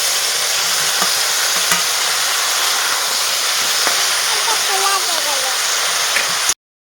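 Mixed vegetables with spinach are stirred in a frying pan, giving a continuous close sizzle with a watery hiss and occasional scraping clicks, fairly loud throughout before a sudden brief cutout near the end.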